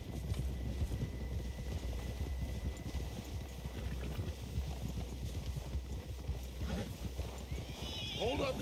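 Horse hooves drum at a gallop in the Red Dead Redemption 2 video game, a steady close clip-clop with whinnies and snorts, under a voice calling out near the end.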